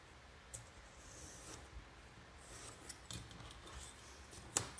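Cardboard being cut in half with scissors at a prototyping workshop, heard as faint, scattered crunchy snips and rustles in a quiet room, with a sharper cut near the end.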